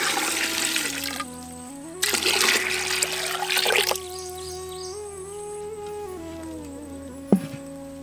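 Water poured over tapioca pieces in a clay pot, coming in two splashy bursts of pouring and gurgling, then a quieter trickle and a brief knock near the end.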